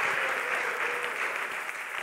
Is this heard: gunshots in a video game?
no